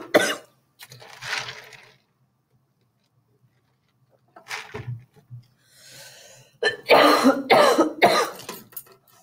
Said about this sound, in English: Excuse excuse me, can't stop coughing.